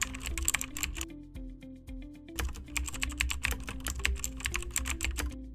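Quick, irregular clicking of keys on a computer keyboard while entering a name and website address, with close, crisp keystrokes in bursts and brief pauses, and no voices.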